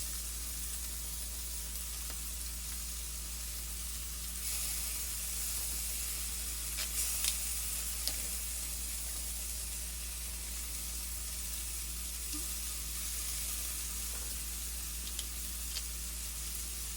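Elk stroganoff sizzles steadily in a hot pan while a utensil stirs it, a continuous bright hiss with a few faint scrapes and clicks, close and alone.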